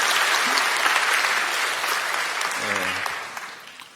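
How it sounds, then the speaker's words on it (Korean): A church congregation at a Sunday service applauds, a dense burst of clapping that stays loud then gradually tapers off over a few seconds, with a brief voice near the end. "박수 한번 보내주시죠"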